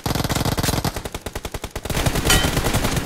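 Rapid automatic gunfire in a shooting video game rattles in tight, regular bursts that pause briefly, then gives way to a denser, continuous roar of shots.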